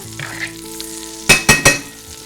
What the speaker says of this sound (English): Now that that butter is melted